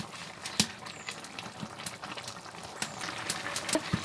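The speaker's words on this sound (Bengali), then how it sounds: "সিমের তরকারিটা আমার একদম বলক চলে এসেছে" Bean and koi fish curry bubbling at a boil in a pot, with a steady low simmering gurgle and scattered soft pops and clinks over about four seconds, no voices.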